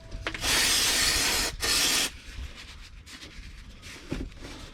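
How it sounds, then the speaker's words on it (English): Brake cleaner sprays from an aerosol can onto a Suzuki Every van differential to wipe off excess oil, two loud close hissing bursts, followed by quieter rubbing and handling sounds. "A little bit of brake cleaner on there to clean off that excess"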